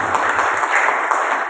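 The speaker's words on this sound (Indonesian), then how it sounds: "tepuk tangan dulu" An audience at a public discussion forum on a legal case in Purwokerto applauds, with steady, fairly loud clapping that fills the room without pause.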